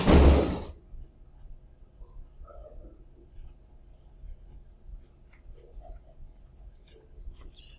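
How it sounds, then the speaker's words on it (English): A classroom door swings shut with one loud, close thud at the start, followed by a quiet room with faint scattered noises. "I'm going to close the door"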